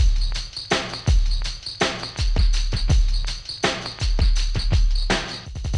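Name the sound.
slowed down pitched drum break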